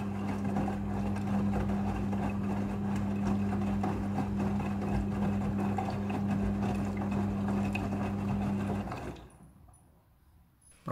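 Midea front-loading washing machine filling with rinse water, a steady rushing inflow joined by a low humming valve tone that runs evenly, then cuts off abruptly, leaving near silence.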